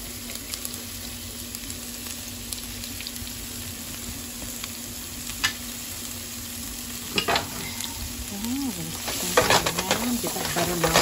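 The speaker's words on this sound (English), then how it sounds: "onions in, I'm going to put my garlic in" Onions and garlic sizzle steadily in a pan for chicken scampi, with occasional scraping and clinks of stirring growing busier toward the end.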